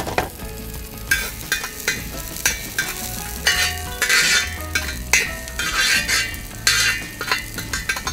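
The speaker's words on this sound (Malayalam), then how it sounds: "അപ്പോൾ നമ്മുടെ ചെമ്പരത്തിപ്പൂവ് ഇതിലേക്കിട്ട് ഒന്ന് വഴറ്റിയെടുക്കുക." Hibiscus flowers are sautéed in a pan for an Onam payasam, soft sizzling under repeated scraping and clinking of a spoon against the metal, steady rhythmic stirring close up with no talk.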